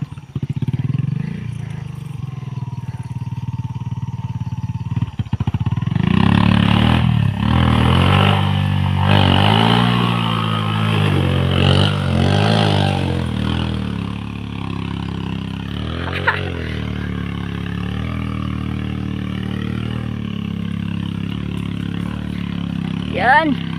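Motorcycle labouring over a badly broken, rough road, engine revving and rising in pitch with bumps and clatter, close and steady throughout, with someone talking over it.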